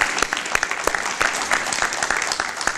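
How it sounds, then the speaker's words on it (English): An audience at a State of the District address claps for the housing department, a short burst of dense, steady applause that fills the hall briefly. "And I just want to give the housing department a round of applause."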